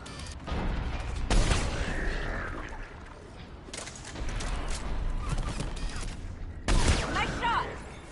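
Mass Effect combat gunfire: bursts of shots come in waves over steady background battle noise, loud and close, with short gaps between volleys.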